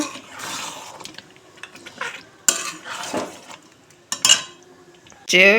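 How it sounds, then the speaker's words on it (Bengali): Chicken being sautéed and stirred in a pan for a home birthday meal, with a utensil repeatedly scraping and clinking against the metal in irregular bursts under a low kitchen background, ending in a louder clatter. "এখন চিকেন কষা হচ্ছে"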